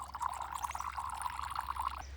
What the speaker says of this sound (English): We already have water coming out.